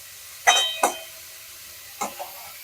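Cauliflower being stirred in a pan for a paratha filling, with a few short scraping stir strokes over a faint background sizzle, close and fairly quiet.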